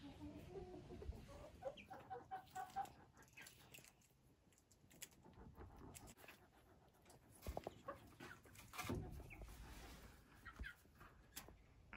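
Laying hen clucking in a garden setting, soft repeated clucks and scratching sounds close by, quiet overall with no talking.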